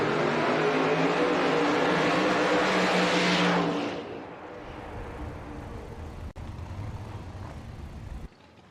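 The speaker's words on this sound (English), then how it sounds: "Our racing engines." Drag racing engines at an NHRA-style Carolina Nationals final round of Top Sportsman eliminations, roaring loudly and steadily for about four seconds before easing into a lower, continuing rumble.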